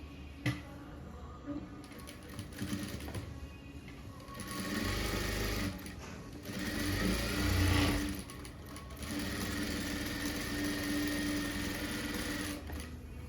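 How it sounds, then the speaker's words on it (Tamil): A sewing machine stitches along the edge of a blouse in several runs of fast, close mechanical whirring, separated by short pauses and with a faint background hum. "இதை அப்படியே அமுக்கி விட்டு இதில் எஜ்ஜில் ஒரு தையல் போட்டுருவோம்"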